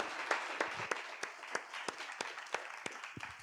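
A masterclass audience applauds a presenter with moderate, fairly quiet clapping. Distinct individual claps stand out in an irregular rhythm over a soft, thinning wash of hands that tapers toward the end.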